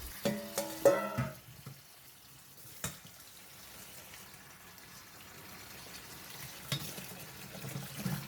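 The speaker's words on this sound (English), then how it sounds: "Continue washing for around 5 times or until the water is slightly clear." Water sloshes and splashes in a basin as mung beans are swirled and rinsed, a few louder splashes early, then quieter swishing nearby.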